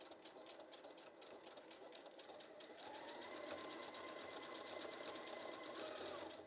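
Husqvarna Viking Onyx 30 serger stitching fabric, a rapid, even mechanical whir and chatter that runs steadily and grows slightly louder midway, close up and alone.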